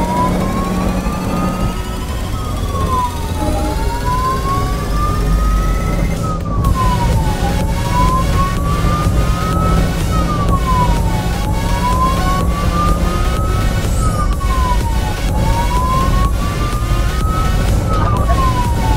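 Ambulance siren wailing loudly and continuously, rising and falling in a slow, steady cycle, over traffic and engine rumble on a highway bridge in Tezpur, heard from inside or very close to the vehicle.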